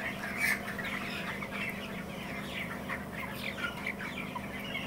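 Broiler chickens around 21 days old on a poultry farm in Pabna, clucking and chirping as a dense flock: many overlapping short calls over a constant low hum of fans.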